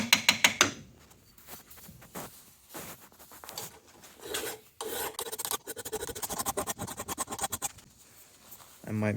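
Steel hammer face of a carpenter's hatchet being abraded to remove bandsaw scratches, giving repeated close rasping strokes in bursts with brief pauses between them.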